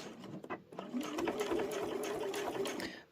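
Domestic sewing machine stitching bias binding onto a quilted layer-cake rotary cutter pouch, a steady close whirring run of rapid stitches after a brief start-up, holding even for about three seconds.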